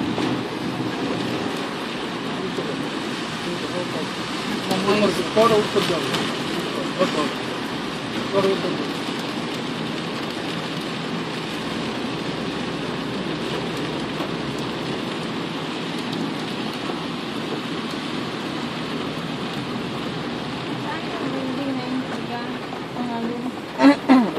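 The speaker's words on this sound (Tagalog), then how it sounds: "Lakas ng ulan ng mga may sinampay sa Beres kawawa." Heavy rain falls in a steady, dense wash throughout, close and continuous, with people chatting in the foreground over it.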